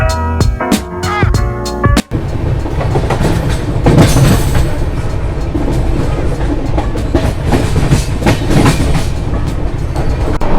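A Shatabdi Express AC chair car train departs on the Bhopal to New Delhi route, heard from inside with loud, continuous rumbling and rhythmic clickety-clack of wheels over rail joints after a few sharp knocks at the start.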